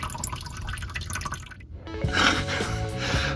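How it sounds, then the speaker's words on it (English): Water splashes and drips from the opened clean-out of a clogged sink drain trap, a steady trickle that turns into a brighter spattering, close and without talk. "There's obviously water coming out of here."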